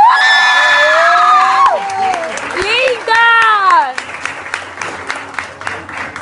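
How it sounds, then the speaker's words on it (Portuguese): Girls at a youth retreat cheer a championship winner with loud clapping, shrill whoops and excited shouts that swell and then thin into scattered claps. "Aplausos para a Tamara."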